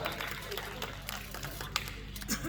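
Applause at an outdoor Hindi poetry gathering, scattered crowd clapping mixed with a loud low hum and background noise, moderately faint throughout.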